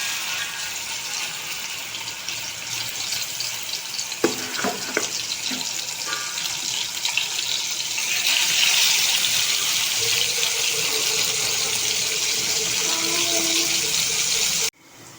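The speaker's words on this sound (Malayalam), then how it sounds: "നമുക്ക് ഇത് വറുക്കാനുള്ള ആവശ്യത്തിന് എണ്ണ ഒഴിച്ച് വറുത്തെടുക്കാം." Pieces of fish fry in hot oil, a loud, continuous, close sizzle and crackle that stops abruptly at the end.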